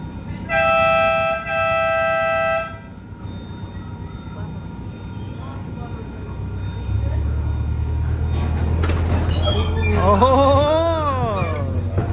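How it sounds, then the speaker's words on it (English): A miniature railroad train at McCormick-Stillman Railroad Park begins to move: a sustained horn or whistle tone sounds early, then a low engine rumble builds and continues steadily while people talk nearby. "The engines are starting."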